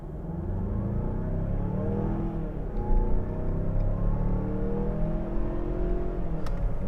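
A 2023 Mazda CX-9 AWD with the 2.5 turbo engine in sport mode accelerates at full throttle, a steady droning engine note rising in pitch as it pulls, heard from inside the cabin with no talking.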